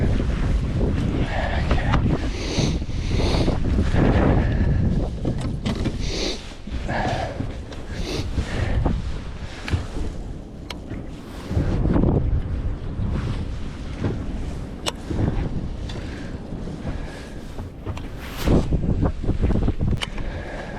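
Strong wind roars continuously across the microphone on open water while fishing from a boat on a lake, gusting loudly throughout with low rumbling buffets and no voices.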